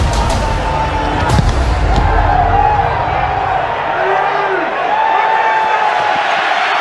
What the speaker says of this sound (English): This is as loud as I've heard it here all year, Jim, right now. Crowd is into it.